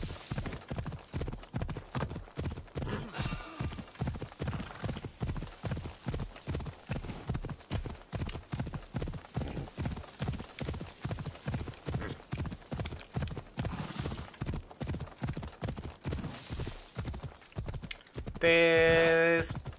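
A horse gallops in Assassin's Creed Odyssey, its hooves clip-clopping in a fast, steady rhythm close by for the whole stretch, with a brief burst of game noise near the end.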